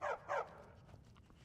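Two quick dog barks from dogs in Skyrim, close and sharp in succession, followed by faint low ambience.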